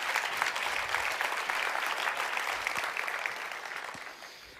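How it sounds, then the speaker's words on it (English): Audience applause rings out after a martial arts drill demonstration, a broad steady clapping from many people that holds firm and then gradually eases off near the end. "I think that deserves a round of applause"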